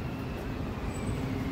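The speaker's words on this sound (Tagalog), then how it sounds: "Kotse." A car rolls past on a Barcelona street at night, a brief low rumble of tyres and engine set against steady background city traffic noise.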